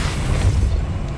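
The Depulso spell cast in the Hogwarts Legacy video game: a short, loud, deep booming burst that holds steady for about a second with a low rumbling body.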